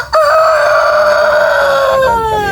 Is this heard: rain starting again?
no